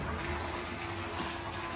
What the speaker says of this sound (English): And now you're gonna put water in your tank.